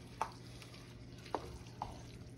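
A spoon scrapes and folds meat sauce through a big pot of old school Southern goulash, three faint soft strokes against the pot over a low steady background hum, with no voices.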